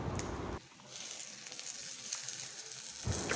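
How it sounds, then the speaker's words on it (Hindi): Onion masala for chilli prawns fries in oil, a soft steady sizzle heard close by, with louder bursts of crackle at the start and end. "जब तक कि ना ऑयल सेपरेट होने लगे तब तक हम इसको अच्छे से भून रहे हैं।"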